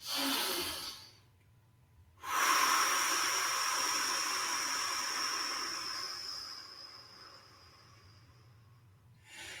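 A long, slow out-breath during a calming Shiatsu breathing exercise: a short breath first, then a steady, breathy exhale lasting several seconds that gradually fades, close to the microphone.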